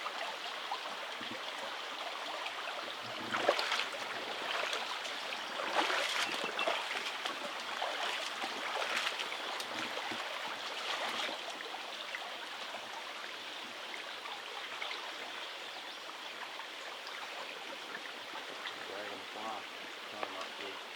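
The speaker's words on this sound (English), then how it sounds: "we're camped next to a Southern Appalachian Brook Trout stream" A small Southern Appalachian brook trout stream flows steadily beside a campsite, a continuous close rush and babble of water with no break.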